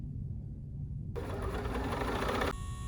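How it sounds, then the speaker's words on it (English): A brand-new BERNINA sewing machine's bobbin winder kicks on after a quiet moment, giving a steady mechanical whirring hum for about a second and a half before cutting off. "My brand new machine out of the box is making this weird humming noise"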